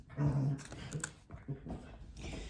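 Puppies whimper and yip in short, high-pitched cries, several small bursts close by with a few soft whines in between.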